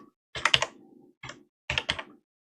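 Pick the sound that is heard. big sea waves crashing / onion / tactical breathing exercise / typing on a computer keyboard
typing on a computer keyboard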